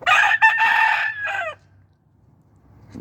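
A red sweater yellow-legged gamecock crows loudly and close by, one full drawn-out crow of about a second and a half, followed by quiet farmyard background and a faint stir at the very end.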